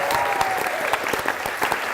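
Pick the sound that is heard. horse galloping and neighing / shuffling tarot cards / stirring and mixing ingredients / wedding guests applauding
wedding guests applauding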